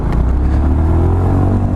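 Honda ADV350 scooter engine running loud and close with a steady low drone, rising slightly as it accelerates over a couple of seconds, no voices.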